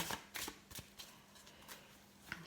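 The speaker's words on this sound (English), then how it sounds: "I'll pull a card from my Visionary Guidance cards." Oracle cards shuffled by hand in several quick, soft riffling bursts separated by brief pauses, close and fairly quiet, with no voices.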